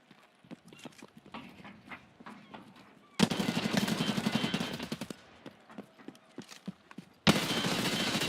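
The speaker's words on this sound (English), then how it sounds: "Shots everywhere." Gunfire in Escape from Tarkov Arena: scattered sharp shots and footsteps, then two loud sustained bursts of heavy firing, the first lasting about two seconds.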